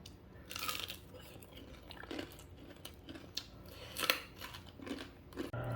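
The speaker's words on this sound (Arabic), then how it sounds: "اسمعوا لي على قرمشة السمك" Fried fish is bitten and chewed close up, giving a series of sharp, crisp crunches at an irregular pace, each burst short and distinct against a quiet background.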